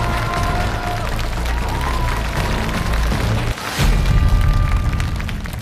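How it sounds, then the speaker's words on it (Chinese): A live audience applauds and cheers loudly at a televised singing competition show, a dense continuous roar of clapping with broadband crowd noise, briefly dipping and then swelling again even louder. "掌声有请"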